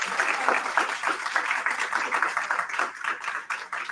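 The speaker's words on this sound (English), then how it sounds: "Can I please get a round of applause?" Audience applause fills the room after a Women in Aviation International chapter presentation, a steady dense patter of many hands clapping at moderate loudness for the full stretch with no one speaking over it.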